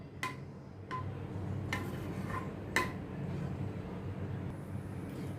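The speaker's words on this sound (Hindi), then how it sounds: "अभी ये चना दाल तड़का मेरी रेडी है। अभी इसको मैं डिश में ट्रांसफ़र करती हूँ।" A steel spoon clinks against a pot and serving dish while chana dal tadka is transferred into the dish, a few sharp metallic taps spaced about a second apart over a soft kitchen hum.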